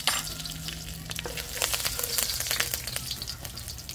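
Spices and curry leaves toasting in oil in a pot over a fireside chulha for chicken curry, crackling and sizzling close up with sharp popping bursts and occasional stirring scrapes.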